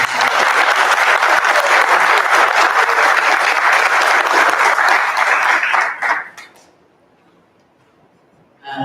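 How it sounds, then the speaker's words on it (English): Church congregation applauding to welcome first-time visitors at a morning service: loud, dense clapping for about six seconds, then it fades quickly into near silence before a sound returns at the very end. "we'll just celebrate with applause"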